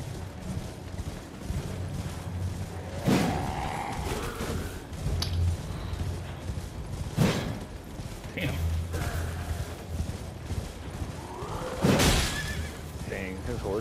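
A horse ridden by an enemy on horseback in the video game Elden Ring, with neighing cries over a low droning background, broken by a few sharp, loud impacts.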